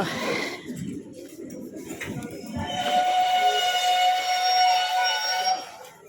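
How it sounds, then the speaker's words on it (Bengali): A train pulls into a station with a rumbling rush that gives way to a steady high whistle or squeal of brakes and wheels, loud and sustained over busy platform noise. "দেখো ট্রেন চলে এসেছে ট্রেনে যাবো"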